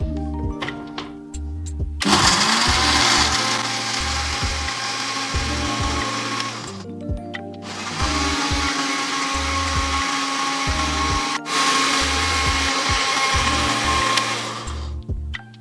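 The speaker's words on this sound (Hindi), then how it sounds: "अब हम इसे अच्छे से ब्लेंड कर लेते हैं।" A blender whirring through mango margarita with water and ice cubes, loud and close, running in long bursts with brief pauses in between and a grinding, rattling edge from the ice.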